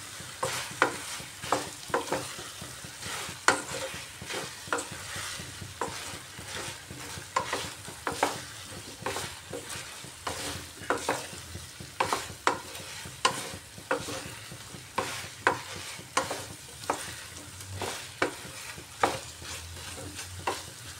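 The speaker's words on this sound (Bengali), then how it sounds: "কষিয়ে নিচ্ছি।" Spiced fish and taro stem sauté in a pan with a steady sizzle, broken by repeated sharp scrapes of a spatula stirring the mixture at close range.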